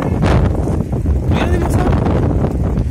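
Wind blows outdoors near water, a loud, continuous buffeting roar across the microphone lasting throughout, with someone speaking French over it.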